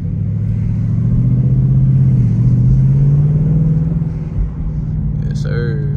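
A 2021 Ford Mustang GT in sport mode accelerates at night, its V8 engine and exhaust droning loud and steady with a rising pitch sweep, and a short burst near the end.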